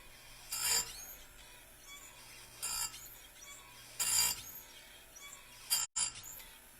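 A file rasps across chainsaw chain rakers in four short, separate strokes, close and fairly quiet, with faint clicks between them.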